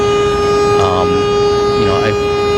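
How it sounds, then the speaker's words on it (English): A car horn blares in one steady, sustained tone on a street in Malaysia, running the full length of the moment while a couple of brief voice-like bursts cut across it. "I don't know who's honking"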